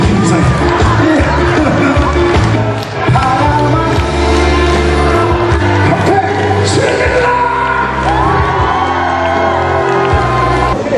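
A market in Pyeongtaek fills with festive music and people cheering, a loud, busy mix of crowd whoops and shouts over a steady beat, with some voices in the throng.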